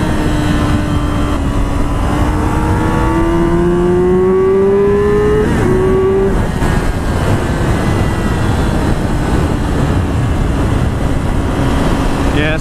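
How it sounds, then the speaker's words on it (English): A Yamaha R6 sport motorcycle engine screams up through the revs with a rising howl, then settles into a loud, rough drone amid heavy wind noise, recorded close. "And I love the sound of the engine. And that screams. It's like a howl."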